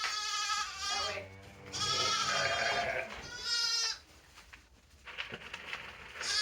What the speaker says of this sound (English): Sheep, sheep. Come on.